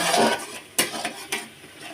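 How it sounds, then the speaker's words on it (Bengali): Spice masala being sautéed in oil in a pan, with scraping spoon strokes and a couple of sharp clanks against the metal, close up and fairly loud, with no talking. "তেলের মধ্যে আমি এবার মশলাগুলো দিয়ে দিয়ে আমি কষাবো মশলাটাকে"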